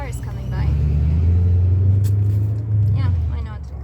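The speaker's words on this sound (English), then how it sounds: "And the car is coming by." A car rolls past a camper, its low engine rumble swelling and easing over a few seconds while people talk over it.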